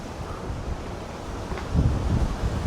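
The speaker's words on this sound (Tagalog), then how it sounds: "Sobrang lakas ng hangin dito." Strong wind at a view deck in Montalban, Rizal, a steady rushing roar buffeting the microphone and swelling into heavier low gusts near the end.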